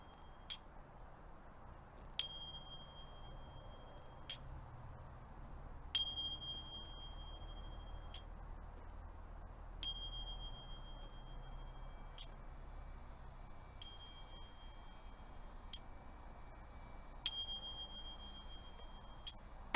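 Open strokes on a Kaimani bell ring out as about ten faint, bright metallic dings at an uneven, unhurried pace, each leaving a short shimmering ring over quiet room noise.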